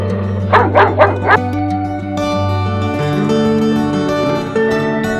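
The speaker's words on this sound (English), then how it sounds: "Dog runs very fast and barks loudly." A dog gives three quick, loud barks, then the barking stops as music carries on underneath.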